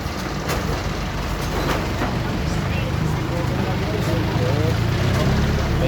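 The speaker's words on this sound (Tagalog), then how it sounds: "May jeep." A jeepney passes on a road in Masbate, its engine rumbling steadily and fairly loud amid general traffic noise, with people talking nearby.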